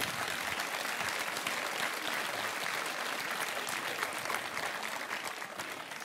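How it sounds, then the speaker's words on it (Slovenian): Sustained audience applause at the 25th Vurberk festival of Slovenian folk-pop music, a dense, even wash of clapping from a large crowd that continues throughout without letting up. "Zdaj si pa le zaploskajte."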